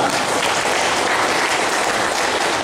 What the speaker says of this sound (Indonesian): Kita beri aplaus pada narasumber kita.